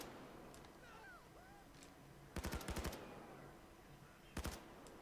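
Commando 553 assault rifle from Payday 2 firing two quick bursts, a longer rattling string then a short pair, crisp and fairly near over a low ambient game bed.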